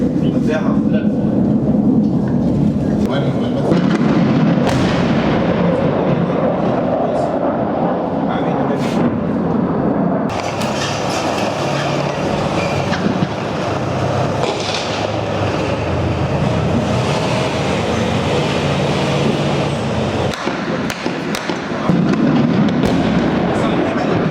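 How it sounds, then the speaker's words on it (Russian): Artillery, aviation and tanks firing in a Syrian Army preparatory bombardment before an attack on Jobar, a loud sustained barrage of booms and rumbling blasts, with voices talking over it. "Артиллерия, авиация и танки начинают подготовку к атаке."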